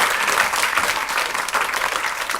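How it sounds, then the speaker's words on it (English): Sustained audience applause fills a lecture hall during a maths show, a dense, steady wash of clapping that runs unbroken and fairly loud throughout, with no voices over it. "Can we have a round of applause for the pennies on the board?"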